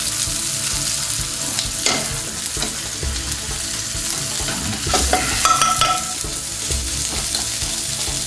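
Methi (fenugreek) sizzling in oil in a curry pan over a lowered flame, with a loud, continuous fry and occasional scrapes and clatters of stirring, no talking.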